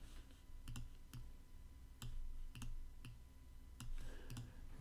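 Mouse buttons clicking in quick pairs and single taps during drag-and-drop work in Xcode on a Mac, soft and close, with no talking.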